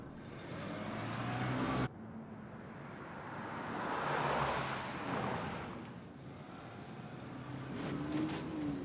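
A car pulls away and drives off, its engine a steady broadband rumble that swells in the middle and eases slightly before building again, with no talk over it.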